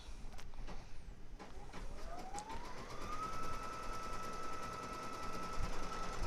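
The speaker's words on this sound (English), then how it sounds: "And now it's gonna stitch Mama." An embroidery machine stitches lettering in black thread onto a leather patch for a beanie, its motor whirring steadily with a rising tone that settles into a constant fast hum, rapid needle ticks running throughout.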